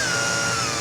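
A cheap Harbor Freight drill bit in a power drill cutting a pilot hole during rust repair on an OBS GMC dually cab corner, a brief steady high whine, loud and close with no talk.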